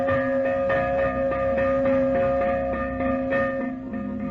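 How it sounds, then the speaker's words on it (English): A fire alarm bell from a nineteenth-century New York volunteer fire company rings out in steady, evenly spaced metallic strokes, loud and sustained with a lingering ring between hits. "And when the fire bell sounded"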